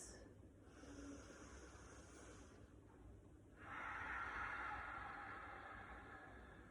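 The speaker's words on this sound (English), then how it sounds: "We're going to take 3 deep breaths." Slow, deep breathing during a hamstring stretch, two soft drawn-out breaths with a faint airy hiss, close but quiet against a low background hum.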